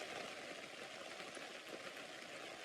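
Steady rain falling on a tent during a storm, a dense continuous hiss of drops on fabric, soft and even with no breaks.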